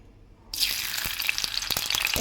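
Onions dropped into hot oil burst into a sudden loud sizzle after a brief quiet moment, then keep crackling steadily and close, with no talking.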